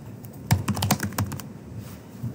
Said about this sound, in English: And start typing user account.